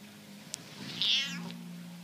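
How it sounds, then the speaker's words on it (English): A house cat gives one clear, fairly loud meow up close, with a small tick just before it, over a quiet indoor hum while rain falls outside. "There's the cat."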